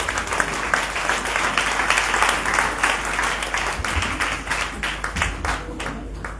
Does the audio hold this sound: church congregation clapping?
yes